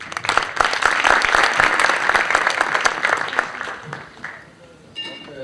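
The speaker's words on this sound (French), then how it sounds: "J'aimerais bien qu'on applaudisse Hatim." An audience applauds a pianist at a forum event: dense, loud clapping from many hands that holds steady, then fades out over the last second and a half.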